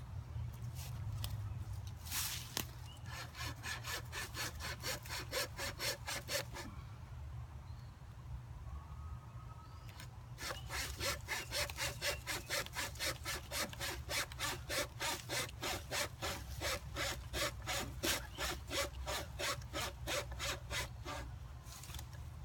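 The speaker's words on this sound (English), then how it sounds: "I guess the way you need to use these wire saws is have it as straight as possible" A pocket wire saw cuts through wood in quick back-and-forth strokes, a close rasping rhythm in two long bursts separated by a pause of several seconds, with no talking.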